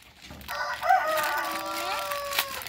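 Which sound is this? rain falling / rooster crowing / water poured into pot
rooster crowing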